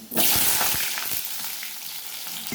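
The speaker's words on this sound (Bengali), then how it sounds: "তারপর আমি আলুটাকে ভেজে নেব" Potatoes frying in hot oil with whole cardamom and cinnamon for a home-style chicken biryani: a loud, steady sizzle bursts in at the start and holds, easing a little, with faint stirring clicks and no talk.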